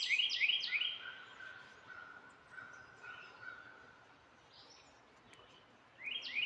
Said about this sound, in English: Do y'all hear all these birds?